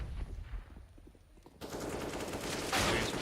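Rapid automatic gunfire rattles in a Counter-Strike match, starting with scattered shots and building into denser sustained spraying, moderately quiet overall.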